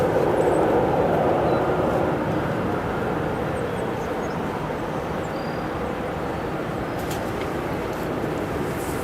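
A Swiss airliner bound for Zurich roars steadily at Chicago O'Hare airport, a broad, continuous jet rumble that stays loud and even throughout with no voices.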